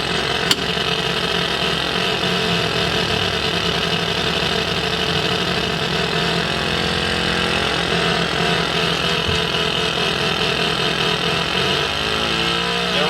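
Simulated piston aircraft engines on an ATC-810 IFR flight simulator run at a steady, busy drone, close and continuous, with a brief click near the start.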